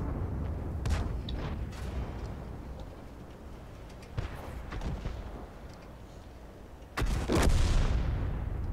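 Panzer IV tank cannon shots in World of Tanks: two heavy booms with rumbling tails, one about midway and a louder one near the end, over a constant low rumble of battle noise.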